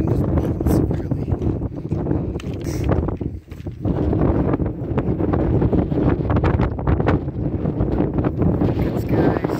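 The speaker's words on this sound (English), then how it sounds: "Wind is blowing severely." Strong wind on the Appalachian Trail roars and buffets the microphone in a constant low rumble, gusting steadily for the whole stretch.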